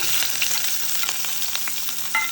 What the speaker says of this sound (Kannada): ಲೈಟಾಗಿ ಫ್ರೈ ಮಾಡ್ಕೊಳ್ಳೋಣ.